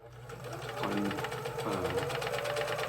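Serger sewing machine trimming and overlocking fabric edges for a cross-over apron, a close, rapid, steady mechanical chatter that picks up speed and runs continuously, with a voice talking over it.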